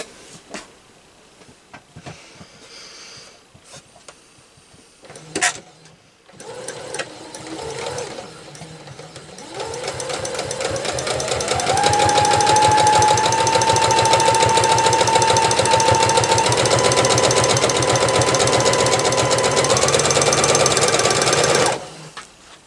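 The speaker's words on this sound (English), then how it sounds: "So we're just going to sew on each side of the line we've drawn." A sewing machine stitches a quilt hourglass block with a quarter-inch piecing foot. A few handling clicks come first, then a close, loud, continuous whirring hum of stitching runs for about twelve seconds before stopping abruptly.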